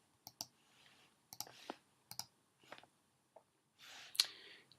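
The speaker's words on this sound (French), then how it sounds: "Un simple clic" Mouse clicks from drawing with the Photoshop pen tool come as sharp, close single and double clicks spread irregularly through a quiet room. One soft rustle comes near the end.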